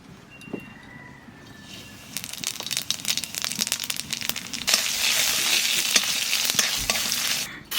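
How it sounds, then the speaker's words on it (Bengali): Cumin, bay leaf and radhuni spices hit hot oil for a green banana curry, starting quiet then bursting into loud crackling sizzle with rustling stirs, close up and building toward the end. "তেলের পর দেবো জিরে তেজপাতা রাঁধুনি"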